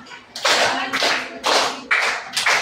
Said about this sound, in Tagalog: bigyan nga ng bawat isa ng ibang palakpak